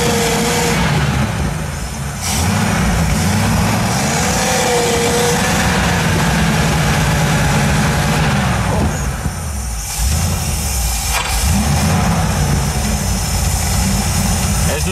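Car engine revving up and then falling flat, a wavering mid-pitched drone that climbs and drops repeatedly, with brief pauses, close and fairly loud.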